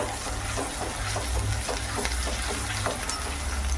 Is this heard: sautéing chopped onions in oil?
yes